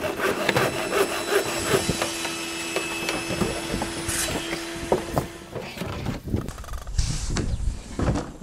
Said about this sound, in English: I'm just going to get rid of this stuff and try and wiggle it out.